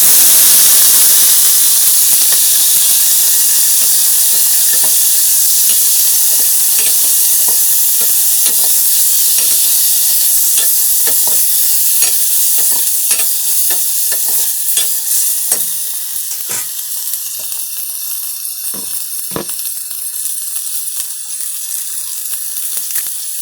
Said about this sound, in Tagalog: nagisa na po yung bawang at sibuyas